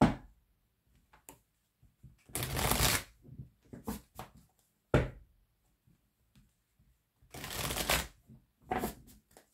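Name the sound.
shuffling and cutting tarot/oracle cards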